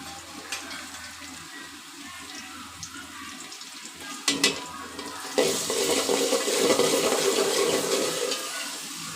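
Ginger garlic paste hits a hot pan while cooking beef pulao, and a steady, broad sizzle swells up after a few quiet seconds of kitchen noise, continuing to the end.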